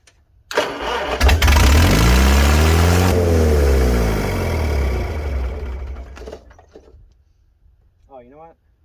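A 1955 Farmall 300 RC tractor engine that had sat for 14 years turns over and fires, running loudly with a rising and falling drone for several seconds, then dies away. A brief voice follows at the end.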